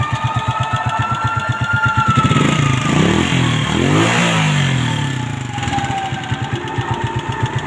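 A motorcycle engine idles with a rapid, even putter, briefly revs up and rises in pitch, then settles back to a steady idle nearby.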